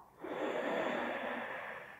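A steady, audible breath exhaled during a Pilates mat exercise, one long airy out-breath lasting about two seconds and fading gently at the end, close to the microphone with no talking.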